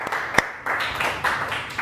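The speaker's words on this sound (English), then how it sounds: "so we all have another round of applause" Brief round of applause from a small audience at a live interview event, a few quick bursts of clapping with a sharp clap near the start, close and fairly loud.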